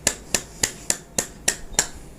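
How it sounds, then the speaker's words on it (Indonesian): Seven sharp, evenly spaced claps ring out one after another at a steady rhythm, close and crisp with no talking. "Tepuk tangan."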